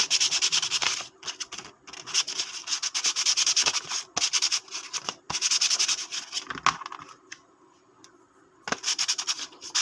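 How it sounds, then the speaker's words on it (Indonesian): Sandpaper rubbed by hand over fishing reel parts during reel maintenance gives close, rhythmic bursts of scratchy sanding with short pauses, including a longer gap near the end. "setelah semua diamplas"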